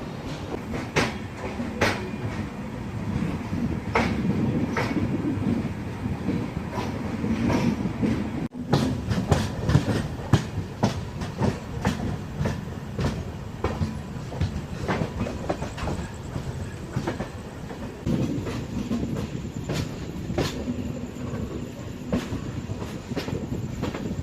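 The West Coast Express train from Mangaluru Central to Chennai Central rolls along the rails at night with a steady rumble and rhythmic clickety-clack of wheels over joints, continuing throughout.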